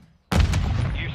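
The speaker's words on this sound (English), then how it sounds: "Saber One, set a charge on the target and detonate it." A planted charge detonates in a ranked online shooter match: sudden loud, close boom bursting out of near silence, then a long rumbling decay with debris hiss.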